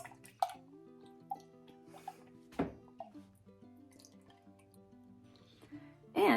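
A spoon stirs garlic and lemon juice into a honey mixture in a quiet room, making soft scattered clinks, drips and sticky plops, with a voice faintly audible underneath.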